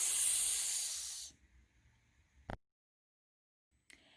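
A voice imitating a snake's hiss with a long sibilant s sound, close and bright for about a second before trailing off, followed by a couple of brief faint clicks.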